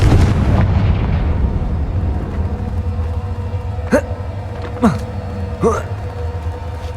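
A Confringo fire spell from the Hogwarts Legacy video game blasts three times, sharp explosive bursts with descending whooshes spaced about a second apart, over a dense rumbling game ambience.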